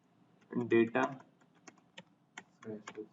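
Quick, light computer keyboard keystrokes click in a short burst after someone speaks Hindi, sounding close and crisp in a quiet room.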